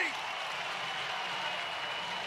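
A home crowd at a Syracuse versus Albany college lacrosse game roars and applauds after a goal, a dense, steady wash of cheering and clapping from a large stadium audience, heard alone and fairly distant.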